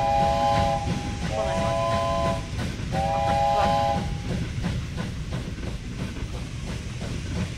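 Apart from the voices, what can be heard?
train in video game Wobbly Life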